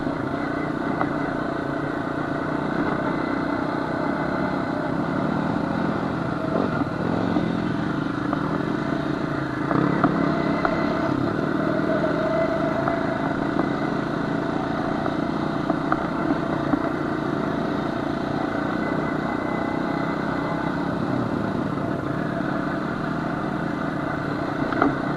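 Honda CR250 two-stroke dirt bike engine running steadily while riding over rough ground, a continuous loud buzzing drone with slight rattling throughout and no talk.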